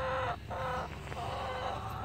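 Chickens clucking steadily at close range, a dense cackling flock with a brief dip in level early on and no talk over it.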